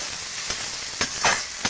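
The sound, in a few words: pangas fish frying and being stirred in a pan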